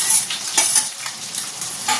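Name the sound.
fried vegetables and shrimp added to frying spice paste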